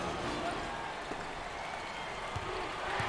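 A packed arena crowd roars continuously through a college basketball game between Iona and UConn, a dense, steady wall of cheering and applause.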